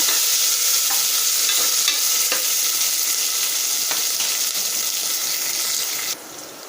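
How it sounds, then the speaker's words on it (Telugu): Masoor dal ingredients fry in a pan with a steady, close sizzle and crackle, broken by occasional scrapes of stirring before the hiss drops slightly near the end. "ఇవి మంచిగా ఫ్రై చేసుకోవాలండి."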